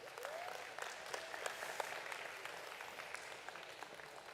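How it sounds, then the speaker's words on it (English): An audience at a county fair and rodeo applauds senior turkey showmen, a steady, even wash of clapping from a crowd heard at some distance, fairly soft, with no talk over it. "Let's give these senior turkey showers a round of applause."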